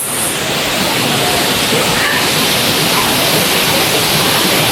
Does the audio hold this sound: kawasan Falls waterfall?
yes